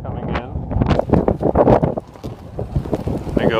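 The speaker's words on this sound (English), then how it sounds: "Very windy on here today." Strong gusty wind buffets the microphone on the deck of a ferry off Salt Spring Island, a loud rough roar rising and falling in bursts throughout.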